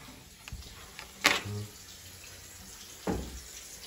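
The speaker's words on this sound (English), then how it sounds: "You just got the water running." Water runs from a tap for hand washing, a soft steady hiss broken by a few sharp clunks and splashes, with no talking.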